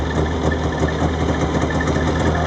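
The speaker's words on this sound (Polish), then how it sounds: "Silnik jest maleńki." A tiny two-cylinder engine idles steadily, a constant low throbbing hum with a faint rattling vibration and no pauses.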